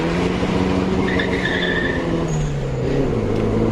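A 1990s Nissan 200SX engine drones steadily with a high tire squeal as the tyres slide on launch, loud and close, no voices.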